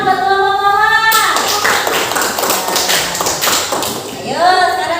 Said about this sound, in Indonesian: Beri tepuk tangan buat kelompok kawan.